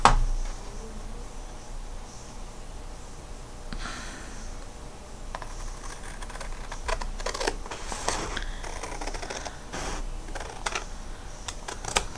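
Scissors cut through craft paper for a small handmade mini album: a run of crisp, close snipping clicks that grows busier toward the end over a quiet room background.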